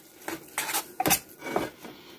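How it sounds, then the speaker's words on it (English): Spoon stirring rehydrated survival food with black beans in its pouch: several short scraping and knocking strokes with pauses between, fairly close and fairly soft. "let's stir it around a little bit"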